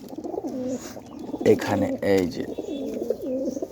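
A caught pigeon coos close by in repeated throaty rolling phrases, with a person speaking briefly between the calls.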